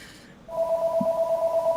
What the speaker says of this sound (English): Oh, someone's mobile phone.